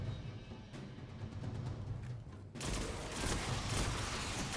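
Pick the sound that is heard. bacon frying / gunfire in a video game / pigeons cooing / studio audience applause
gunfire in a video game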